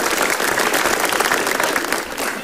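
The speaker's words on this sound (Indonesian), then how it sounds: "Boleh tepuk tangan buat Komika Vagansa dulu" A comedy show audience at Komika Vaganza bursts into dense, sustained applause, many hands clapping together in an even roar for a couple of seconds, near and loud with no speech over it.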